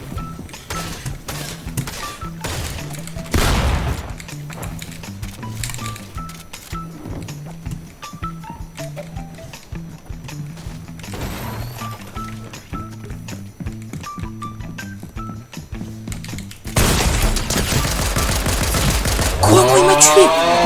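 Weapons fire in a video game's shooting match, rapid bursts of shots crackling repeatedly over a steady musical backdrop, with a heavier sustained barrage near the end.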